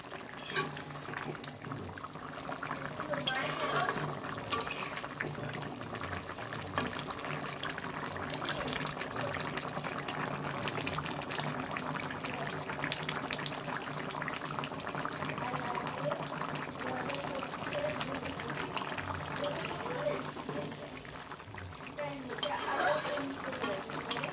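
Pangas fish and potato curry simmers in a pan of gravy, giving a continuous close bubbling and gurgling hiss, with a person speaking over it.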